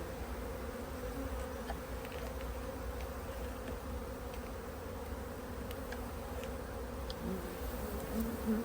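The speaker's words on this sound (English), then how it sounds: "So many bees in this colony, so many." A Buckfast honey bee colony drones with a steady, dense buzz from many bees close by, constant throughout with no voices.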